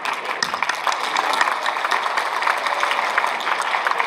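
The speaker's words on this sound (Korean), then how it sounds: "여러분께 박수를 먼저 드리고 싶습니다." An audience at a People Power Party rally in the Honam region applauds, a dense, steady patter of clapping that carries evenly from start to finish.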